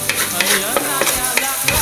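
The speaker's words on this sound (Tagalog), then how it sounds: "Then, gigisa na tayo ng bawang." Garlic sautéing in a pan on a gas stove, a loud close sizzle with quick, regular spatula scrapes and knocks, about three per second, and no speech.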